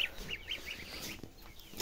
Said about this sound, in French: Là, il y a les petites oies.